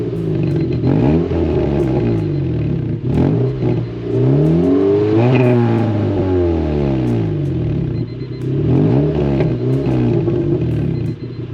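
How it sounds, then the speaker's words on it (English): A parked Honda CRX Si engine revs several times up close, each throttle blip sweeping the tone up and back down over a loud idle rumble with light mechanical clatter. "I'm gonna rev it a few times while it's sitting here"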